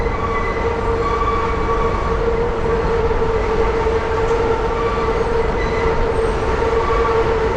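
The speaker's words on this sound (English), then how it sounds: "there goes the 7 train up there coming in." An NYC subway 7 train rolls along an elevated track above a bridge with heavy truck traffic, a steady loud roar and metallic rumble holding throughout, with faint wheel squeal tones on top.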